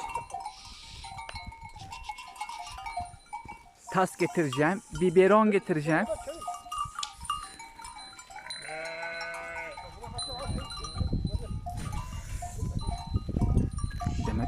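Sheep bleating on a farm, a few wavering bleats close by in a brief cluster, with a person speaking nearby and other farm noise in the background.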